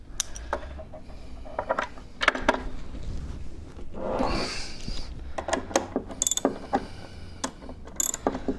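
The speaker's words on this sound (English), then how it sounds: "I'm going to do this with my ratchet and socket because I think it'll be gentler on the end of my bench's panel" Ratchet and socket driving lag screws to attach a workbench base, giving repeated crisp clicking bursts close by with brief pauses between runs and no talking.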